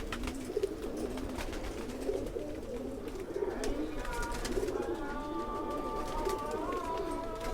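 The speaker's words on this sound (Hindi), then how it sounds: "कबूतर हाथ में इतना नाराज हो रहा है" An agitated pigeon held in someone's hand gives repeated low coos and throaty grumbles, close and steady, over a faint background hum.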